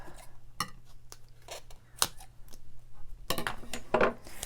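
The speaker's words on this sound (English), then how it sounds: "Grab my scissors." Scissors snipping through craft foam at a papercraft desk, a series of short, sharp close-up cuts with scattered clicks and brief pauses, no talking.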